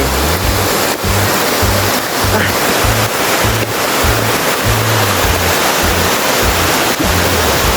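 Loud, constant roar of rushing water at Karugo Falls fills the whole clip, a thick unbroken wash of noise with no voices.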